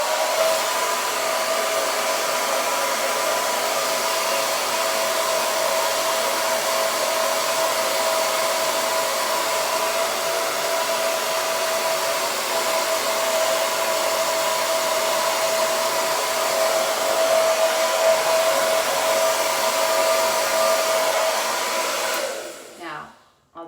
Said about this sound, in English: I'm going to use this brush and the blow dryer to create gentle spiral curls,